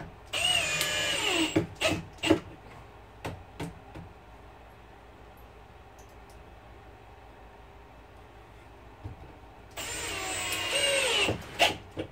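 Power drill driving screws into a bedroom wall inside a shed being converted to a tiny house, heard as two short high whirring bursts at the start and end with clunks and handling noise between.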